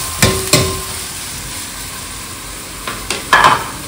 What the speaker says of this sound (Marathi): आता सोयाबीन वड्याचे वडे टाकणार याच्यामध्ये भिजवलेले आहे, ते पण मस्त मिक्स करून घेणार छानपैकी.